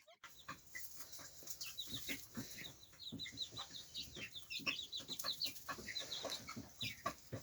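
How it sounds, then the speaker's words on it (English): Young chickens on an off-grid farm cluck and chirp in a busy, uneven stream of short calls, fairly close but moderate in level over light background noise. "Those 6 baby chickens are not so small anymore."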